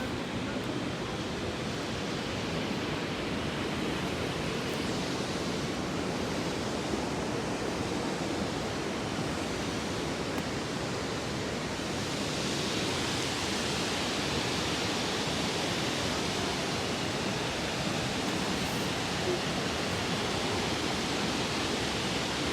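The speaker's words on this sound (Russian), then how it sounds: "мне нравится, как вода шумит" Water rushes continuously in a dense, even roar with a soft splashing texture, with no voices.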